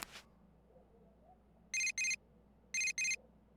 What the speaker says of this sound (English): Turn our phone on. Oh, do we get that message from Teddy now?